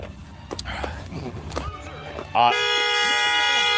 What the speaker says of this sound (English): That honk was promised to him.